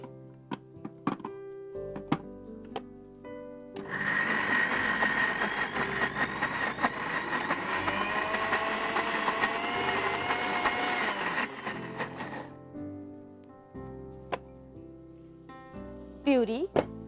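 A hand blender grinds cooked lentils into purée, a loud close whirring that starts abruptly, runs steadily for about eight seconds, then cuts off, with kitchen clatter and a voice before and after.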